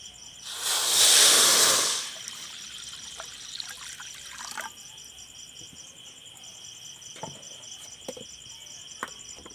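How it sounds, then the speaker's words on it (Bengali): Water is poured into a kadai to boil potatoes for aloo dum, a loud, close gushing hiss lasting about a second, followed by quiet background with steady insect chirping. "তার জন্য আমি কড়া দিয়ে জল দিয়ে দিচ্ছি।"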